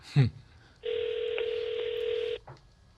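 A telephone call being placed: a quick burst of dial tones, then a steady ring tone lasting about a second and a half, followed by another short tone, close and clear.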